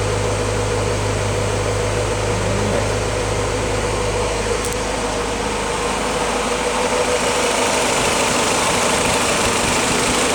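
A 1953 Willys L-head engine idles steadily and loudly up close, with a continuous low rumble and an even mechanical patter that holds without change throughout.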